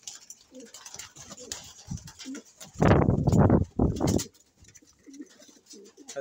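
Pigeons kept by a breeder coo in a loud, close burst of throaty calls, with softer bird sounds around them and a voice speaking quietly at times.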